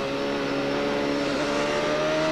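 Onboard engine note of Brian Herta's CART Indy car racing in 1995 at Miami, a loud, steady high-pitched whine held near constant with a slight dip, close and alone.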